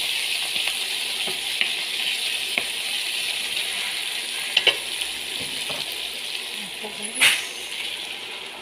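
Mung beans sautéing in a pan, giving a steady close sizzle with scattered clicks and scrapes of stirring and one brief clatter near the end, while a person speaks now and then.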